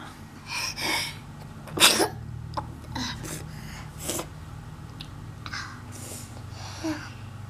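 A young child with a stuffy nose gives a short, sharp sneeze around the middle, along with sniffles and small breathy noises at home.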